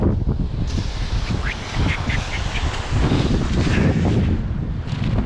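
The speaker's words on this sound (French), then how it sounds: "Il y a du vent" Steady wind roars and buffets the microphone throughout, a continuous low rumble with gusty swells and some faint outdoor sounds mixed in.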